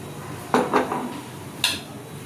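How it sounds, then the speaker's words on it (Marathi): A fork or whisk clinks against a bowl as eggs are beaten with salt for a cheese omelette. There are a few quick taps in a short cluster, then one more sharp clink, all close and fairly clear. "तर आता आपण अंडं फेटून घेऊ।"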